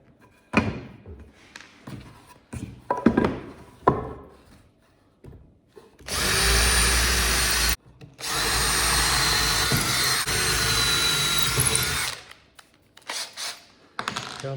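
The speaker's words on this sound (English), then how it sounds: "Countersink your screws again." A power drill countersinks screws into wood while building a jig for stair glue blocks. It runs in two long, loud, steady whirring bursts, the first about two seconds and the second about four, with quieter handling noises before and after.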